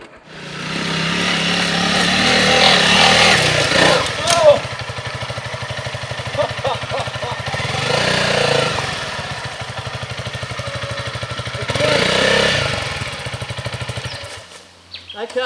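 A Honda CRF 300 L Rally motorcycle picks its way over large rock drop-offs off-road, its light single-cylinder engine loud and close, rising and dropping with throttle blips and low-speed thumps, under steady wind noise and talk.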